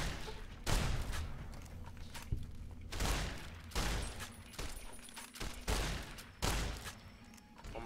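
Gunfire in the video game Fallout New Vegas, at the NCR Correctional Facility, comes as a string of heavy, booming shots roughly every second, with echoing tails and faint speech in the background.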